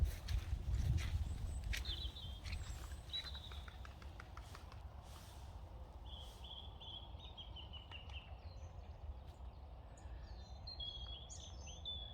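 Faint birdsong with scattered chirps and trills in the distance over a steady low outdoor rumble.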